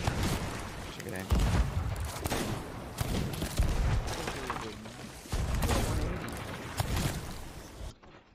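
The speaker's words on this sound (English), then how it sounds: "my pistol shots are kind of nice right now" Pistol shots in the pirate video game Sea of Thieves crack repeatedly amid busy in-game noise and chaotic battle sounds, with sharp loud bursts spread unevenly through the action and a player talking over them.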